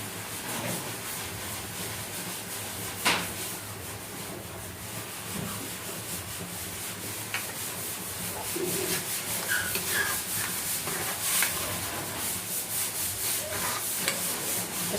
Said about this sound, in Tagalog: maingay sa taas kasi nagpapapintura kami ng bubong